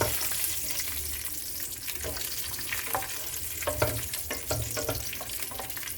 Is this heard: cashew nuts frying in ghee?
yes